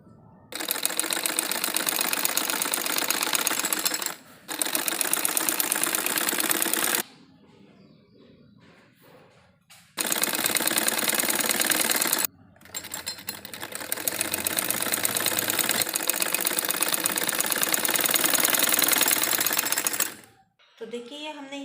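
Close, loud sewing machine runs stitching the waistband onto a circular palazzo, in several long bursts separated by quiet pauses, with a brief voice at the very end.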